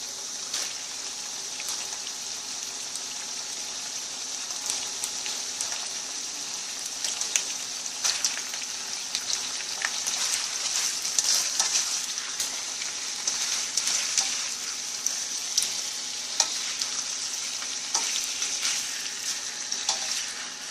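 Beef stir-fries in a hot pan with a dense, constant hiss and crackle and scattered sharp pops. The sound runs steady throughout with no talking.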